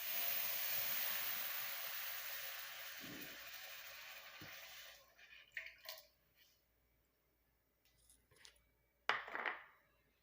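Karpooravalli leaf juice boiling in an iron kadai, a steady sizzling hiss that fades out after about five seconds, followed by scattered bubbling pops and a sharp sputter near the end.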